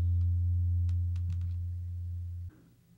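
A low, steady synth sine bass from the VPS Avenger synthesizer, with reverb and delay, drones loudly and cuts off sharply, followed by a brief reverberant tail; faint clicks flicker above it.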